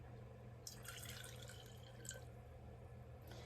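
Rinse water from waking up loose tea leaves is poured off and discarded during a gongfu tea session, a faint, soft trickle and splash coming in a few short bursts against a quiet room.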